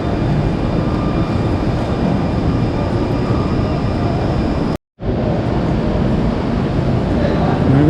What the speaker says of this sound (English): There goes that train.